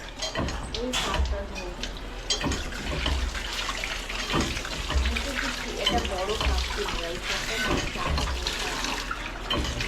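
Water runs steadily from a tap while someone keeps washing, a continuous splashing rush with clattering handling noises and voices talking over it.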